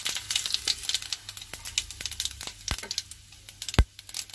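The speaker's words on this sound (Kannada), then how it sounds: "ಈಗ ಸಾಸಿವೆ ಸಿಡಿತಾ ಇದೆ" Mustard seeds splutter in hot oil for a tempering of curry leaves and dry chillies, giving sharp irregular pops and crackles that are close, fairly loud and come in quick scattered bursts, with no voices.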